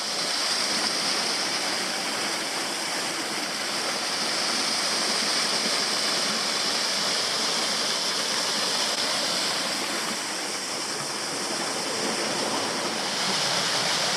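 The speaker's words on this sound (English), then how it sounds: "It's a really nice little waterfall." Small waterfall on a Tasmanian creek, a steady broadband rush of falling water that holds at close range for the whole stretch with no voices over it.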